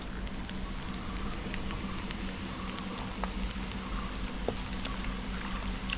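Washed chicken pieces go into a hot pan for a shallot chicken curry, producing a dense, continuous crackling sizzle with no talk.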